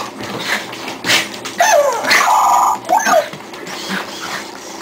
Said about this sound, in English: Get up, Robo Dog